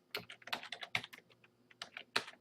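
Rapid typing on a computer keyboard, close and distinct, with irregular bursts of key clicks and brief pauses throughout, no voices.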